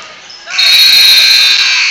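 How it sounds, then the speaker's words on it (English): Basketball end-of-quarter buzzer at a school game: a loud, sustained electronic tone begins abruptly about half a second in and holds steadily to the end over faint gym noise. "Tigers are able to get the pass in the court before the buzzer goes off."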